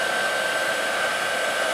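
A heat gun blowing steadily to melt embossing powder on a Christmas card, a constant close airy roar with a whining tone and no pauses or talk.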